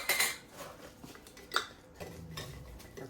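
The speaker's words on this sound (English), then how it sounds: "I'm just going to put it in this jar" Pieces of cooked beef are packed into a regular glass mason jar, making quiet scattered clinks and taps over a few seconds, with a brief brighter clink partway through.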